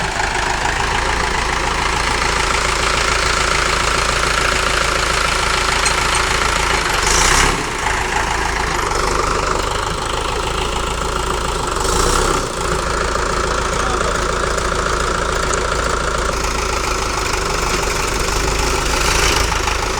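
A tractor stuck in deep mud in a village field runs steadily at a low rumbling idle, loud and close throughout with a couple of short bumps, no talking.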